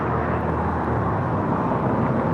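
A FedEx MD-11 airliner, delivered to American Airlines in 1991, coming in to land on runway 25 left: a steady, broad jet engine roar, loud and constant throughout with no change in level.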